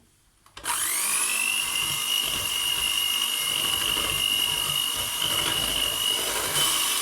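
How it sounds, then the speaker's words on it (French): A small kitchen food processor whirs steadily, blending dissolved coffee with hot liquid cream for a coffee ice-cream dessert; a loud, continuous high motor whine starts abruptly after a brief pause and runs without a break. "Alors, je vais mélanger rapidement avec mon petit robot."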